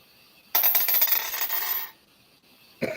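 A die is rolled onto a marble countertop, making a bright, clattering rattle that lasts about a second and a half before it settles, followed by a short knock.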